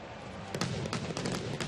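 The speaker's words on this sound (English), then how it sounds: "Fireworks are going off." Fireworks bursting over a ballpark on opening night of a Phillies at Cincinnati baseball game, a rapid series of crackling pops heard from a distance against steady crowd and broadcast noise.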